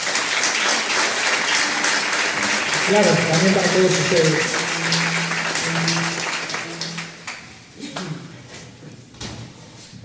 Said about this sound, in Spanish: Es un amigo de años, fuerte aplauso para Oscar.